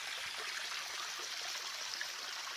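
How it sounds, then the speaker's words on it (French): A stream of water flows out of a former uranium mine area in the Cantal countryside, a continuous bright rushing trickle at close range, steady and unbroken. "Ça c'est l'eau qui sort de la zone que je viens de vous montrer"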